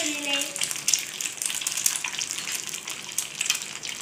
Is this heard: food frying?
yes